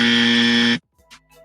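A harsh electronic buzzer sound effect blares loudly and steadily for most of a second, then cuts off abruptly, followed by a few faint soft sounds.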